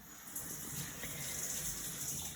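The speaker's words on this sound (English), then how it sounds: "we're going to add that egg mixture to the pan" Beaten egg mixture poured into a hot frying pan over potatoes and onions for a Spanish omelette, a soft continuous pouring and gentle sizzling hiss, quiet and close, with no talk.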